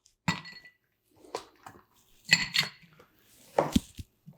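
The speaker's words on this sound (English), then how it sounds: "we're going to add the ice and we're going to shake it up" A few ice cubes drop one by one into a cocktail mixing glass, giving sparse, sharp clinks separated by short pauses, fairly quiet and with no talk.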